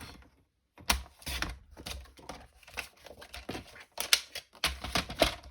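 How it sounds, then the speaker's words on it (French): A paper guillotine trims a sheet of paper to 17 cm for a folded accordion card, producing a series of close, sharp clacks and cutting snaps in quick bursts after a brief silence, with no talk. "avec le massicot, on se met à 17."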